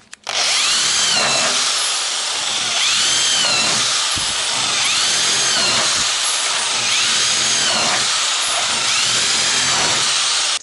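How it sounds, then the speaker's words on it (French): A power drill bores continuously for about ten seconds, a loud close whine with slight dips in pitch as the bit works through the material, and no talk over it. "Alors, perçage."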